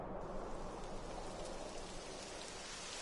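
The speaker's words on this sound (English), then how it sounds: "It would have to go and start raining, wouldn't it?" Rain pours in the video game Dragon Quest XI, a soft steady wash of falling water that holds evenly throughout, fairly quiet and without voices.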